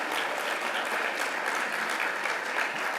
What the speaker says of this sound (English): So please, a round of applause for Julia.